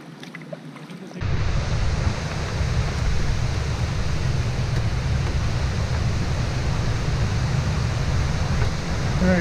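A large white waterfall pours in a loud, steady broadband rush that starts abruptly and continues unbroken, close and dominant throughout.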